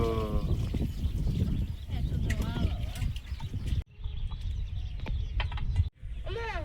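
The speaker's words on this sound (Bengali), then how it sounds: "ছাগল দুটো ডাকছে, নিয়ে আসবো?" Two goats bleat repeatedly at a rural home, short wavering cries breaking through steady household noise, with birds and chickens faintly around.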